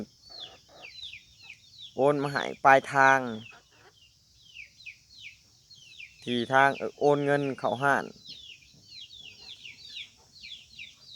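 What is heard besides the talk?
chickens clucking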